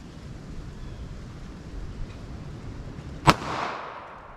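A single sharp shot from a Kel-Tec P32 .32 ACP pocket pistol cracks out loud and close, followed by a brief echoing decay over steady outdoor background noise.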